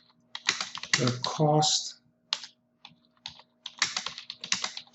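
Keys clatter on a computer keyboard in quick irregular bursts, close and fairly loud, with a person speaking briefly in between.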